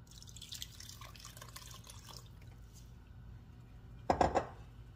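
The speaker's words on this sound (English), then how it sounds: "I'm gonna put just a little bit more water." Water poured into a pot of hamburger meat for hot dog chilli, a brief close splash and trickle near the end after a stretch of quiet kitchen noise.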